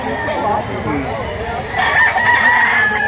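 Roosters crow at a chicken market in Lipa, Batangas, with a drawn-out call rising near the end over a steady bustle of background noise and faint voices.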